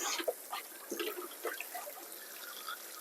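Water runs and splashes faintly while turnip greens are washed in a kitchen, with soft, uneven trickling and a few light sloshes and no talking.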